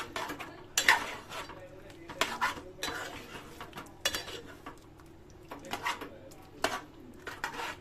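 Chicken curry stirred in a cooking pot with Kashmiri chili powder, a spoon scraping and clinking against the metal in bursts of a few strokes, close and moderately loud, with a faint voice underneath.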